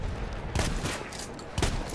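Gunfire from a weapon in Battlefield 1, two heavy blasts about a second apart standing out over constant loud battle noise and rumble, with no voices.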